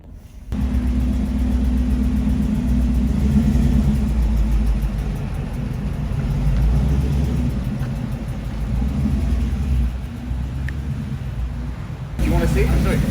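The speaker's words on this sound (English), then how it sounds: "that Corvette engine making some really, really good sounds" A Corvette V8 engine swapped into a Tesla rumbles with a steady, loud low-end drone that holds through the whole stretch, briefly dipping before picking back up near the end.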